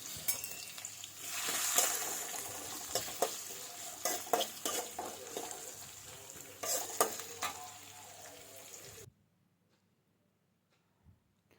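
Chopped onions fry and are stirred in a pan for a Kannada-style capsicum gravy, with a steady sizzle and repeated scraping stirs up close. The sizzle cuts off abruptly near the end, leaving near silence.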